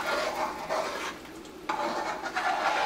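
Gandules rice cooked in coconut water being stirred in a pot, a close, continuous soft scraping and rustling of grains against the pot in a few slow sweeps, with no voices.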